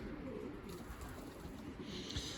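Pigeons coo softly in a cleaned-out loft, a low steady murmur of several birds blending with faint background hiss, one slightly louder coo near the end.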